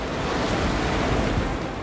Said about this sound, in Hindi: अरब सागर में उठी ऊंची ऊंची लहरें इंसान के मन में दहशत भरने के लिए काफी थी